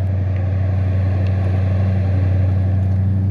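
2020 Dodge Charger R/T with HEMI V8 running, heard from inside the cabin as a loud, steady, deep drone that holds level throughout with no speech.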